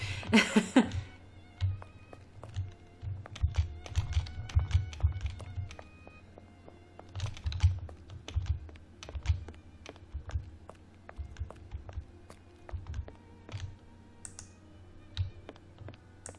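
A computer keyboard spacebar tapped repeatedly, with quick irregular clicks and clacks scattered over a low game soundtrack drone, close and moderately quiet.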